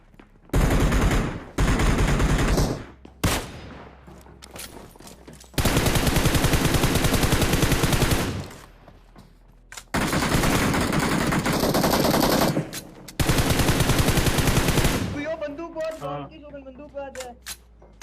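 Sustained automatic gunfire in the battle royale game BGMI, several long loud rapid-fire bursts with short gaps and sharp isolated shots between them.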